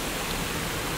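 Autumn waterfall heard as a steady, dense broadband rush with no breaks, close and fairly loud, filling the whole moment without any voices.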